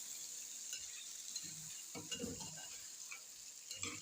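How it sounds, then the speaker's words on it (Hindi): Washed potato slices being mixed in a sizzling pan, a quiet steady fry hiss with soft scraping and a few brief low stirring thumps, close and without talk. "अब इनको हम कर लेंगे अच्छी तरह से मिक्स।"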